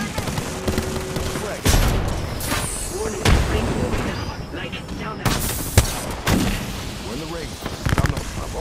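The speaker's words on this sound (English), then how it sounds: "Grenade!" A grenade blast and heavy bursts of gunfire fill a battle in the video game Apex Legends, with repeated rapid shots and booming impacts, loud and dense throughout as voices talk over the combat.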